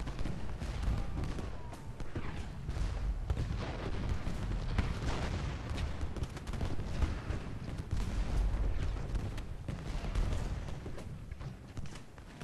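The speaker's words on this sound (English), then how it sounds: "Artillery pieces." Civil War cannon fire in the strategy game Ultimate General: Gettysburg, steady rumbling artillery booms and scattered musket volleys blending into a dense, muffled battlefield roar at moderate volume.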